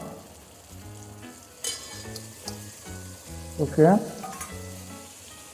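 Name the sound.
vegetables and green peas frying in a pan for veg biryani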